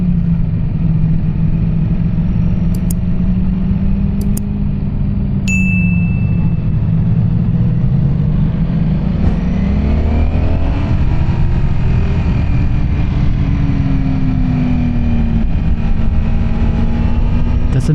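A 2025 Ducati Streetfighter V4S engine drones loudly and steadily at high revs, pitch sweeping up through gear changes, with faint chimes early on.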